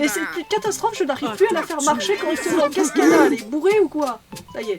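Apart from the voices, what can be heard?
No everyday noises stand out.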